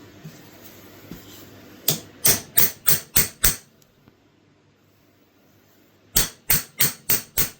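Metal hammer blows strike a vintage knife during restoration, falling in two quick bursts of five or six sharp, evenly spaced taps with a quiet pause between them.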